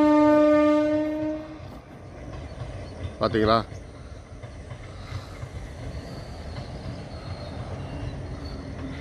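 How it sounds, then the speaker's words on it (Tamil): A passenger train on the Katpadi to Pondicherry line via Villupuram sounds a long horn blast, then rumbles and clatters past nearby. Someone speaks briefly as it goes by. "எங்கள் ஊரில் ட்ரெயின் போகுது பாருங்கள்"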